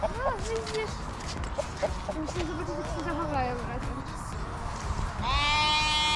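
Sheep on a farm bleat repeatedly in short wavering calls, near and fairly loud, mixed with people talking and rustling footsteps.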